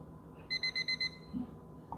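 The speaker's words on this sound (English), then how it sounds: "There's my trusted alarm." An alarm clock goes off with five quick, evenly spaced electronic beeps, moderately loud and alone against faint room noise.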